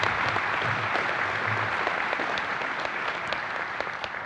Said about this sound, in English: Let's give a round of applause to our DMI awardees